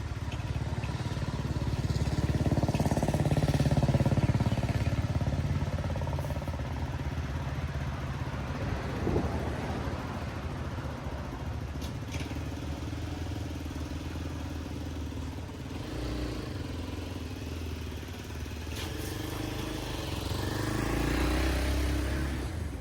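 Motorcycle engine droning steadily while riding on a road trip through Madhya Pradesh, with continuous wind rush and low rumble, occasional clatter and slight rises in engine pitch.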